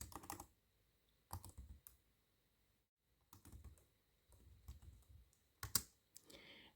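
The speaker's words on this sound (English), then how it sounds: "Let's just type here Hooke." Typing on a computer keyboard while entering a formula, heard as close, quiet bursts of key clicks separated by short pauses, with no voices.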